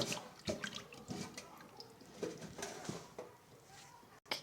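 Raw shrimp being washed by hand in water in a home kitchen, with faint, irregular splashes and trickles close by.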